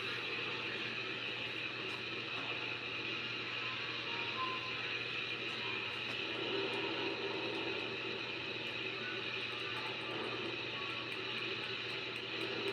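Vision Line Class A model locomotive sound system running through a sequence after pulling a heavy train, giving a steady, quiet mechanical hiss and hum with a constant tone, even and unbroken throughout.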